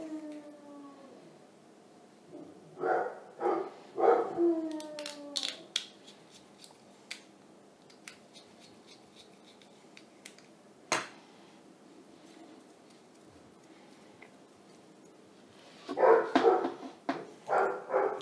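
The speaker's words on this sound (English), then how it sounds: "That dog is going wacko." A dog barks in several short bursts with some howl-like drawn-out calls, in clusters near the start and again near the end, with quieter clicks and household clatter between.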